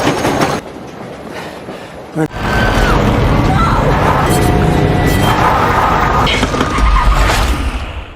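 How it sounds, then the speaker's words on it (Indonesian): A train rumbles past loudly and close, a continuous roar with clacking wheels and metallic squeals, briefly faint at the start. "berisiknya sebuah kereta mengganggu percakapan mereka"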